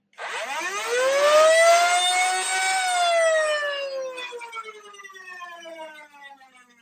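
Nerf Pro Sender ball launcher's electric motor lets out a loud, pure whine that climbs quickly, holds high, then slowly sinks in pitch as it winds down over several seconds.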